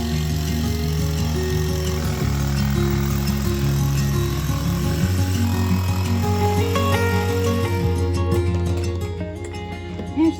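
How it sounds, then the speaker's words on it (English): A small power saw runs continuously at close range, loud and buzzy, with its pitch shifting in steps as it bites into the wood and eases off. It winds down near the end, and no one speaks. "It's just a little saw."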